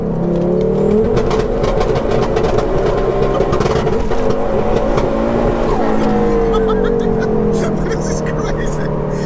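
A 530bhp big-turbo Ford Focus ST, swapped to four-wheel drive but running in front-wheel drive, accelerates hard in second gear, a loud sustained engine roar heard from inside the car, with people talking over it.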